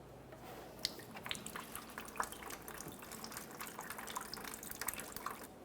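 Washer fluid trickles and drips from a disconnected reservoir hose on a 2011-2020 Toyota Sienna into a collection container, a steady soft liquid patter with scattered brighter drips, fairly quiet and continuous, with no talking.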